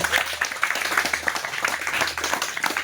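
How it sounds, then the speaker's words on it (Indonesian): A seated audience at a retreat for diocesan seminarians gives a brief round of applause, a dense, even patter of many hands at moderate loudness with no talk over it. "kita berikan tepuk tangan dulu yuk"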